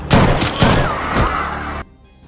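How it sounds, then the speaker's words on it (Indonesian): Loud, close gunfire as police shoot Val in the film The Bricklayer, several heavy blasts with booming tails in a dense burst that cuts off abruptly into near silence. "Dan akhirnya polisi setempat pun menembak Val."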